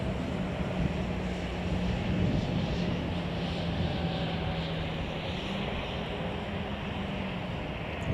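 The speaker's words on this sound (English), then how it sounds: "Let's catch United Flight 617 from Denver. This is a Boeing" A United Boeing airliner at Chicago O'Hare gives a faint, distant, steady engine drone with a low hum beneath, heard alone with no voices.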